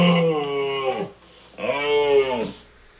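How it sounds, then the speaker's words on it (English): A moose call: two long, low, moaning bellows separated by a short pause, each a sustained harmonic-rich groan that bends downward at the end, heard close and alone. "Here's a moose sound."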